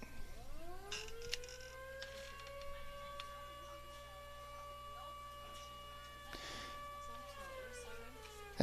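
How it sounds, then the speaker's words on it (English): A tornado siren test sounding at an outdoor high school softball tournament game, a faint distant wailing tone that rises and holds steady for several seconds over low background ambience. "As the tornado siren test went off here."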